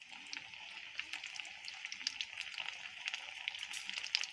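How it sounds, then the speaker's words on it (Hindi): Chicken bread rolls frying in oil on a low flame, a steady bright sizzle with small crackling pops throughout, close and fairly quiet, with no talking. "कम रोल डाल के आपने इसको हल्की आंच पे फ्राई करना है।"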